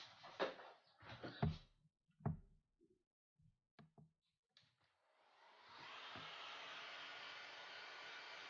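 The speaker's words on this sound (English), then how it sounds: "let us just hit it quickly with the heat gun" A heat gun blows hot air across freshly airbrushed paint, a steady broadband whoosh that starts after a few knocks and clatters and holds evenly to the end.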